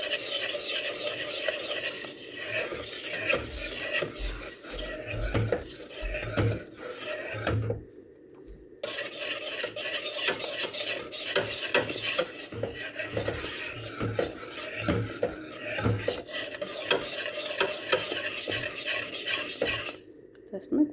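Lemon cream simmering in a pot on a gas stove while a spoon stirs it, steady scraping and clinking against the pot with soft bubbling, close and continuous, with two brief pauses.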